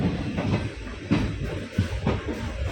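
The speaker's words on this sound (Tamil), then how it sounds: "இப்போ குருவாயூருக்கு ட்ரெயினில் போயிட்டுருக்கோம்." A passenger train bound for Guruvayur rolls along, heard from inside as a loud, steady rumble with periodic thuds from the wheels on the rail joints, and no talking.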